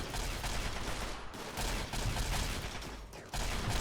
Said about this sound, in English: This is going to be a massive firefight.